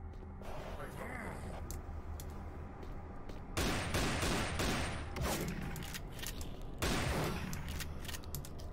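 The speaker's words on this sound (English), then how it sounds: "How can the shotgun kill him in one shot from there?" Shotgun blasts in modded Doom 3, set in the Alpha Labs sector: loud, broadband booming shots at about 3.7 and 6.8 seconds, with game noise and scattered sounds between them and no spoken words.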